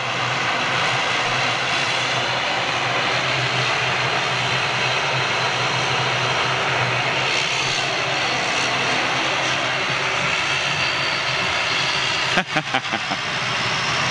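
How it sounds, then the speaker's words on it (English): Turboprop aircraft engines at an outdoor air show in Manchester give a steady, loud broadband roar that fills the scene throughout, with a few sharp knocks near the end and people talking nearby. "Look at the heat! Just from those turbo props, man."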